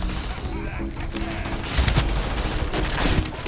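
Fully automatic Keelhauler weapon firing in Starfield, rapid bursts of gunfire crackling over a busy combat soundscape, with louder clusters of shots toward the middle and end.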